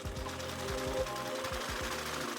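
A sewing machine runs a straight stitch down a ribbon, its needle thumping in quick repeated bursts with short pauses between runs, close and fairly quiet.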